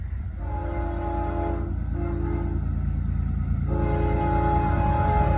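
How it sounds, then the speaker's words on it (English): A CSX freight train rumbles past with a loud sustained horn blasting in several long tones over heavy, continuous rail noise, close and steady throughout. "I guess use a CSX train"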